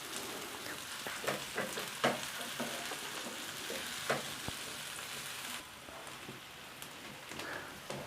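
Diced capsicum fries in hot oil in a pan for chicken jalfrezi, giving a steady close sizzle broken by sharp crackles and stirring clatters, slightly quieter in the last few seconds.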